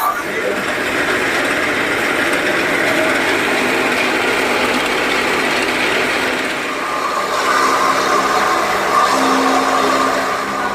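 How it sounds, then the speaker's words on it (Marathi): A chaff cutter's electric motor runs with a steady, loud whine, shifting slightly in pitch partway through, with faint voices in the background. "मोटर सुरू करायची एकदम सोपी"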